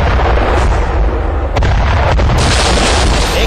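Artillery shelling and gunfire during a Chinese military exercise, a dense continuous roar of blasts and shots with a sharp burst near the middle and heavier booming toward the end.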